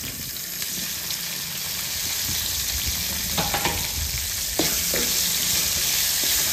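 Okra and curry leaves fry in a pan for a Tamil-style vendakkai mor kuzhambu, giving a steady, close sizzle throughout with a few brief stirring scrapes near the middle and no talking.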